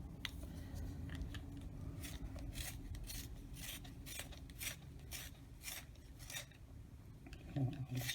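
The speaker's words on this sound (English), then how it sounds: "The sharpener I'm using is Faber Castell sharpener." Moss green colored pencil being sharpened in a Faber Castell sharpener, a run of rhythmic scraping grinds, roughly one each half second, close and fairly quiet, with a soft thud near the end and no talking.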